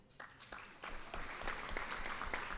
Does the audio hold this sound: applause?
yes